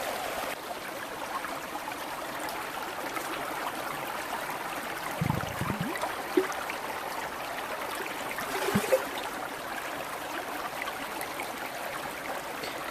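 A stream flows steadily at a campsite, a soft continuous trickle and wash of water heard from nearby at low level, with a couple of faint brief thumps partway through.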